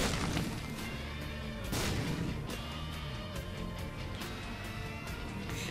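Bombs going off in The Binding of Isaac: Afterbirth, a dense run of booming blasts and crashes over busy game music, one heavier burst near the start of the second.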